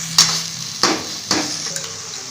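Ingredients with curry leaves sauté in a pan under a soft sizzle, punctuated by four distinct clinks and scrapes of a spoon against the pan, spaced about half a second apart.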